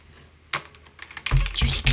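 Keys clack on a Logitech gaming keyboard in a quick, irregular burst of close, crisp strokes, sparse at first and then denser and louder toward the end, with no talking.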